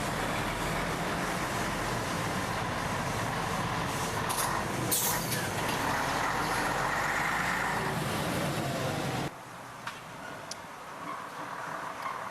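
Scania 112M truck rolling past in a vintage wagon run parade, a broad steady engine and road roar held loud for about nine seconds, then dropping away to quieter traffic rumble with faint clicks.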